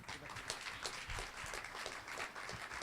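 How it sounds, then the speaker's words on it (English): Audience applause at a ceremony welcoming guests of honor, a steady wash of many hands clapping at moderate distance, fairly soft and even throughout without speech. "Give one more applause to them."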